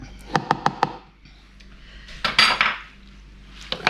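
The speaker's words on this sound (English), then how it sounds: "And then I just take the blade out." A metal blade lifted out of a food processor bowl after blending smoked mackerel pâté, a quick series of sharp clinks and taps followed by a scraping rattle, close and clear with no talking.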